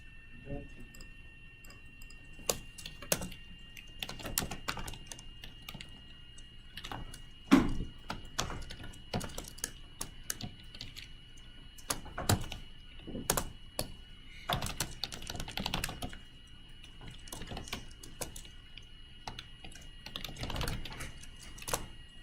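Fingers tap on a computer keyboard in scattered bursts of close clicks with uneven pauses, over a faint steady hum.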